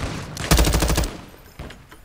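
Revolver shots fired from the hip in Call of Duty Modern Warfare II: a loud, close burst of rapid cracks, then a short lull and a fainter single report near the end.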